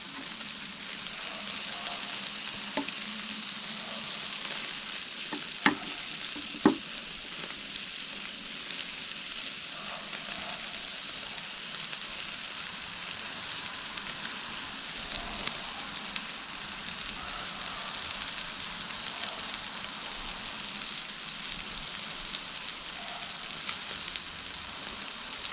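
Steaks sizzle steadily in a pan over a Primus stove, a constant bright frying hiss with a few sharp pops and crackles, close and even throughout.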